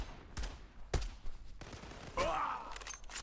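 Gunfire in the online shooter Zula Strike: several sharp separate shots spread across a few seconds, with a brighter burst of fire and ringing noise near the end, moderately loud within the game mix.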